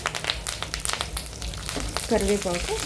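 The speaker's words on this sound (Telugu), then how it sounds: "ఇప్పుడు ఇందులోకి ఎండుమిర్చి వేసుకోవాలి. కాసేపు ఫ్రై చేసుకోవాలి." Dried red chillies and curry leaves frying in hot oil give a crackling sizzle with sharp pops, and a voice comes in toward the end over the frying.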